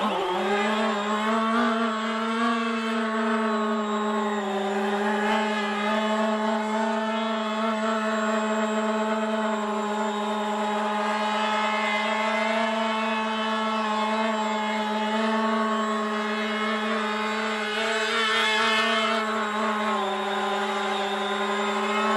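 Electric motors of a foamboard VTOL tail-sitter model aircraft whine steadily at high throttle, a continuous buzzing drone with slight pitch wavers and no talk over it.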